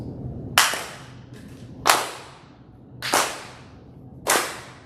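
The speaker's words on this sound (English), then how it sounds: "the end part is always the unity clap" Four sharp, loud claps struck in unison by a group, spaced about a second and a quarter apart, each ringing briefly, closing a Japantown community performance.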